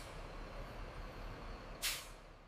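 Night bus from Jakarta to Java stopping at the Pakupatan rest area in Serang: a single short hiss of air brake release over a quiet, steady idle rumble.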